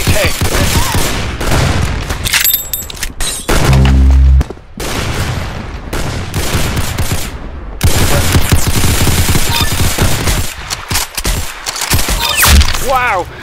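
Rapid, loud bursts of gunfire in the Roblox game Arsenal, with dense automatic volleys and sharp single shots crowding together nearby across the whole stretch, with brief gaps between the barrages.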